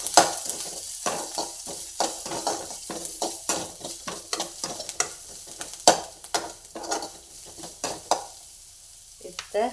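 Onions frying in ghee with turmeric, a steady close sizzle broken by repeated scraping stirs of a spoon in the pan, no talk.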